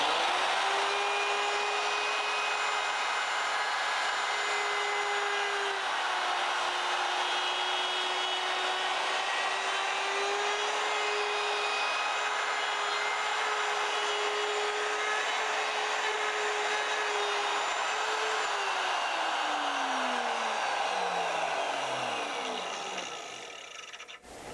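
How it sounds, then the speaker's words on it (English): A router bit makes a finishing pass along the walls of a headstock slot in wood, using a slotting and drilling fixture. The router whines steadily and loudly for over twenty seconds, then winds down as it stops. "So the router bit can handle that much of a cut in one pass"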